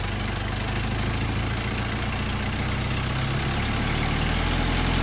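A cold carbureted engine idles steadily and close, its low, even rumble holding unchanged throughout with no voices.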